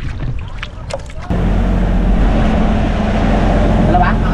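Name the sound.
fishing motherboat at sea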